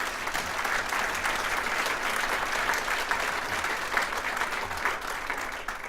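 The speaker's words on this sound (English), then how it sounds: "So we should give her a big round of applause" Audience at a regional political event applauding Congresswoman Maxine Waters, a long, steady wash of dense clapping from a large crowd, loud and unbroken with no speech over it.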